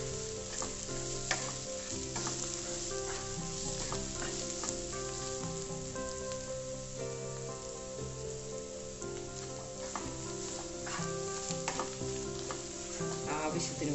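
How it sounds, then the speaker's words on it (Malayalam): Spices and pepper powder sauté in a pan for a Nadan beef curry, giving a continuous busy sizzle with scraping stirs and small crackles, close and unbroken, with no talking. "കുരുമുളക് പൊടി ഇതെല്ലാം കൂടെ വഴറ്റുക"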